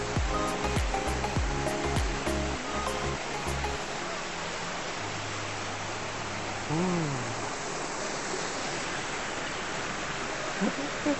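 A loud, continuous roar of a forest waterfall rushing fills the scene, steady and broadband, with brief voices and scattered sounds near the start.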